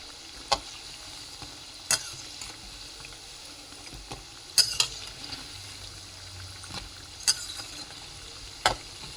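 Moong dal bhaji fritters sizzle steadily in hot oil while being turned, with sharp metallic clinks of a utensil against the pan at irregular intervals over the continuous frying hiss.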